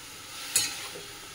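Bottle gourd frying in a pan gives a soft, steady close sizzle with a single brief stirring scrape partway through.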